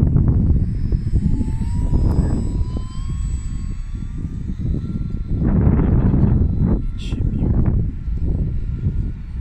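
A Fotoblok RC high-wing trainer model airplane drones steadily as it flies slowly overhead, its engine whine rising and falling slightly as it passes, heard alone without talk.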